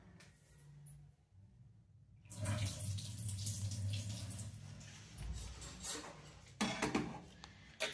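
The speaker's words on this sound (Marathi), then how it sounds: "पाणी घालते" Water poured from a tap into a pot of soaked toor dal in a home kitchen, a steady close splashing stream lasting several seconds after a quiet start.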